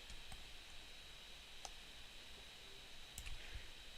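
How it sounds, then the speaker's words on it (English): Soft mouse clicks on a control in 3D rigging software, three or four isolated clicks spaced over a few seconds against a steady background hiss. "If I keep clicking it, maybe I'll figure it out."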